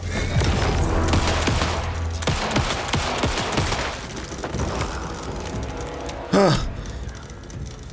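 Gunshots in the Alan Wake 2 video game, as rapid loud volleys of shots fire in the first seconds and then thin out into scattered reports, with a sharp burst near the end.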